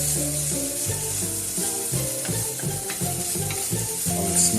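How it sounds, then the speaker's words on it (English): Cauliflower frying in a pan with spices, a steady sizzle broken by repeated clattering stirs and scrapes close up, with no talking. "I'm just going to fry this up until the cauliflower is done"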